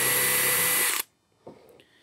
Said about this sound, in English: So I'm gonna go ahead and drill the first hole.